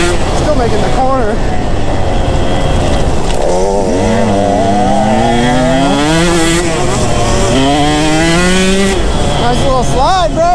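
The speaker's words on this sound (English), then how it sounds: "Just two strokes ripping together. Can't beat it." KTM and Husqvarna 125 two-stroke dirt bikes racing together, their engines loud and continuous, pitch climbing and falling as the riders rev hard and shift through a corner.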